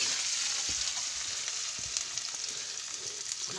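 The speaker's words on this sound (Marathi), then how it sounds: "अद्रक आणि कांदा" Onion and ginger frying in a pan for a village-style capsicum bhaji: a dense, even hiss of sizzling oil fills the clip, steady and fairly close, with faint scattered crackles and no talk.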